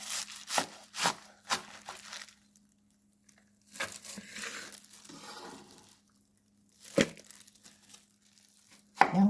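A knife cuts through a bundle of freshly washed, young garlic chives on a board, a few crisp chopping and rustling bursts with quiet pauses between them, close and soft, with no talking.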